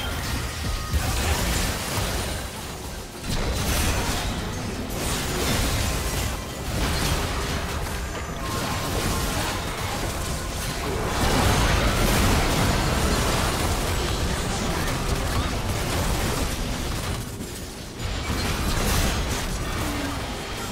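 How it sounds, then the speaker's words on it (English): Artillery barrages in a League of Legends top-lane match between Renekton and Gangplank: sustained loud explosions and bursts layered over busy game effects, with a heavier cluster of booms near the middle. "Heavy artillery, please."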